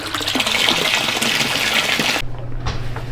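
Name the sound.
water filling hot tub through water outlets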